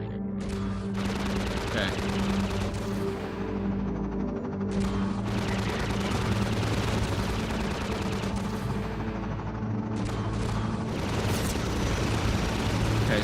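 A combat gunship in Half-Life 2 fires sustained rapid bursts of gunfire with booming impacts, loud and continuous, while someone briefly speaks over it.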